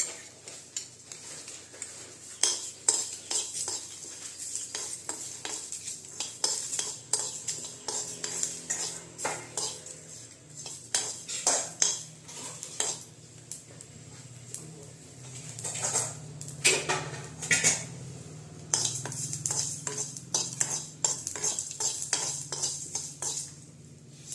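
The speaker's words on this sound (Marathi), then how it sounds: "तिळ पण यातच भाजून घेऊया" Sesame seeds dry-roasting in a pan for a Maharashtrian katachi amti, stirred with a utensil in irregular scraping, rattling strokes and soft crackle, close and fairly loud and continuing throughout.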